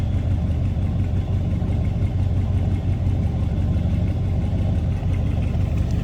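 A 1976 Ford F-150 pickup truck engine idles steadily, a constant low rumble with a rough mechanical texture and no changes in speed, close by.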